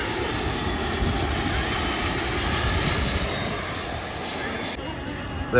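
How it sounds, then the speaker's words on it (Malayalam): A small private jet lands at Manchester Airport, its steady broadband engine roar filling the air close by and holding even throughout, with voices talking over it. "ഏതോ പ്രൈവറ്റ് ജെറ്റാണ് വെന്നീസിൽ നിന്ന് വരുന്നതാണ്"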